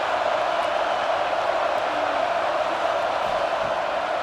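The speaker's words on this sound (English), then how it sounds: "this crowd trying to help keep them there" Stadium crowd noise from the College Football 26 video game, a steady dense roar of a large crowd on third down, constant and unbroken throughout.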